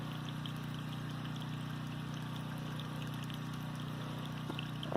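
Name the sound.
well pump motor running with generator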